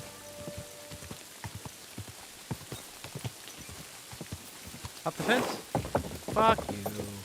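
Horse hooves clip-clop at a steady walk in the Kingdom Come Deliverance 2 video game, a soft rhythmic patter of light hoofbeats, with brief louder rustling bursts near the end.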